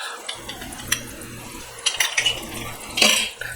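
A spoon mixes a marinade of vinegar, vegetable oil, salt and bay leaves in boiling water for red bell peppers, giving scattered clinks and scrapes against the pot over a soft low bubbling.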